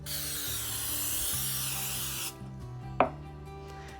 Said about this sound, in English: we're going to spray our pans